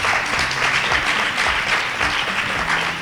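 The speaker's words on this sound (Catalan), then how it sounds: "Un aplaudiment ben fort, això sí que sí." Steady crowd applause at a Falles festival gathering, dense and even throughout with no pause.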